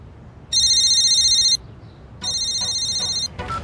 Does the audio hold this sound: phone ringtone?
yes